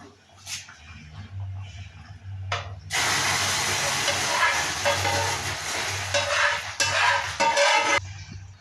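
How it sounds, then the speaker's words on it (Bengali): Burnt, caramelized sugar poured into pumpkin payesh in a kitchen, setting off a loud, sustained steam hiss for several seconds that breaks off briefly once, following softer clatter and a low hum. "চিনিটাকে পোড়ানো হয়ে গেছে লাল হয়ে গেছে এখন আমি এর মধ্যে ঢেলে দেবো"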